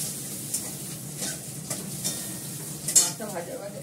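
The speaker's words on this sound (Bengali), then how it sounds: "মাছটা ভাজা ভাজা, এইটা ভাজা ভাজা হয়ে গেছে।" Fish frying in a pan: a continuous close sizzle of hot oil broken by soft spatula scrapes and a few sharp metallic taps against the pan.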